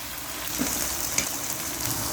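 Chicken cut into strips sizzles steadily in a pan with garlic, a constant close frying hiss with a few small pops and no talking.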